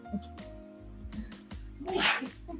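One sharp, forceful sneeze bursts out near the end, over steady background music and a low hum.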